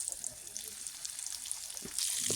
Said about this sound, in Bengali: তেল গরম হলে সুন্দরভাবে মাছগুলো ভেজে নেই